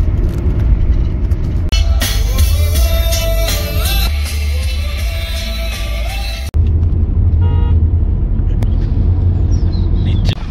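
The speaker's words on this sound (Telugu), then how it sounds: "చూడండి మొత్తం వెహికల్స్ ఎట్లా ఉన్నాయో, ట్రాఫిక్ జామ్ లాగా ఉందన్నట్టు ఇక్కడ" Heavy road traffic in a jam, with many vehicles heading back on a drive near Hyderabad toward the Vikarabad hills. Engines rumble steadily and close by, with a denser, louder passage in the middle and faint horn-like tones.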